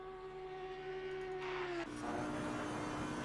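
A race car engine whines at a high steady pitch in a racing sim at Spa, then the note drops as an upshift hits and a rougher, noisier engine roar carries on; no voices.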